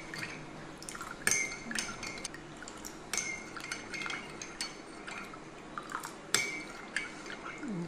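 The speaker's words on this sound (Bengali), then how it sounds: "এবার আমি এটাকে খুব ভালোভাবে নেড়ে মিক্স করে নিব। এমনভাবে মিক্স করব যাতে করে এর ভিতরে কোনো চিনি বা লবণ দানা বেঁধে না থাকে।" A spoon clinks against a glass or jug while sugar and salt are stirred into water for juice, giving irregular sharp taps and small liquid swishes, close up and fairly quiet.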